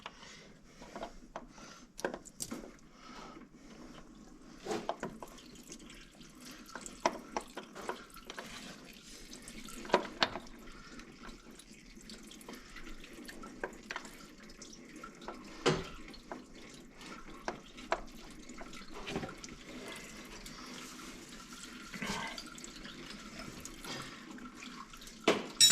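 Coolant trickles and drips from a hose on a John Deere skid steer, a steady faint watery flow broken by scattered clicks and knocks of metal parts, heard close with no talking.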